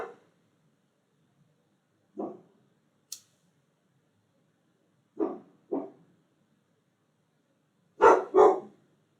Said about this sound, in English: Oh, why is this dog barking?